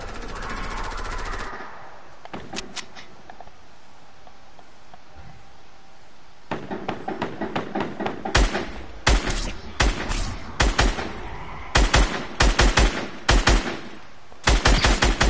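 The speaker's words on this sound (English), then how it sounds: "they buffed the hand cannon" Hand cannon gunfire in an online multiplayer shooter game, heard as loud, sharp shots, first in a burst near the start, then scattered single shots and rapid clusters through the second half, with no talk.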